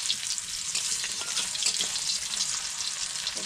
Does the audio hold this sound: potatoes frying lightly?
yes